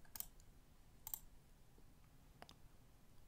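Computer mouse clicks sound faint and sharp, about three isolated clicks spaced across a quiet room.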